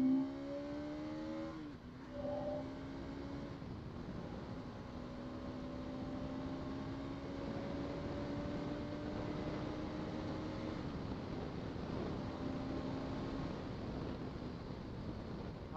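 A 2024 Bajaj Pulsar NS200 motorcycle engine revs and climbs through rising tones as the rider pulls hard on an open road, steady and continuous with wind rumble and no speech.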